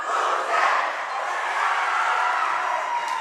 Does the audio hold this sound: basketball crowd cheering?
yes